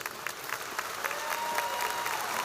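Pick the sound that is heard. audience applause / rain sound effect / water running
audience applause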